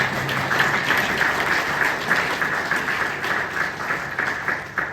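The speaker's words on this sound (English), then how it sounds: "That deserves a round of applause." An audience at a Sarnia Sting hockey club ownership announcement breaks into a steady round of applause, a dense wash of many hands clapping continuously with no speech over it.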